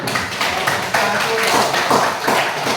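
Hands clapping in a classroom after a student group's math presentation, a scattered crowd applause running steadily for a few seconds.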